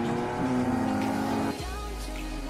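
Race car engines roar loudly at close range as they launch, the whine dropping into a deep, steady drone as they pull away.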